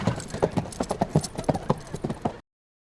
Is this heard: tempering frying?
no